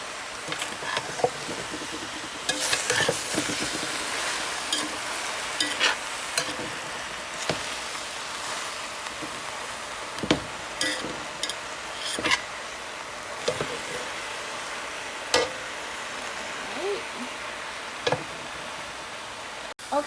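Southern-style pork and cabbage cooking down in a pot, with a steady quiet sizzle and bubbling punctuated by frequent scattered clicks and scrapes of stirring.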